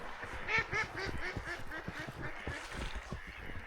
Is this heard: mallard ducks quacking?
yes